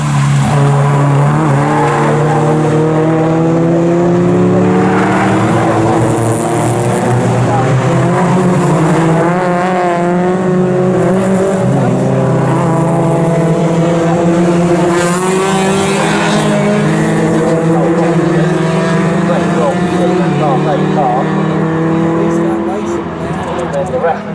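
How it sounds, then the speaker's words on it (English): MG Cup race cars packed together through a corner on the opening lap at Snetterton, engines roaring loud and continuous with rising and falling revs, under steady commentary. "Slightly packed behind them as they come through Forum Curve on this first lap of the MG Cup."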